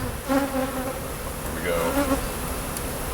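Swarm of angry bees buzzing steadily during a bee removal in Godley, Texas, a dense, continuous drone that stays close and loud throughout, with individual bees whining past. Someone speaks briefly over it.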